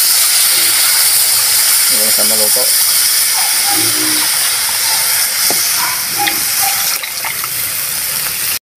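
Water poured into a pan of sizzling pork fat sends up a loud, steady hiss of steam and frying, while a person speaks over it.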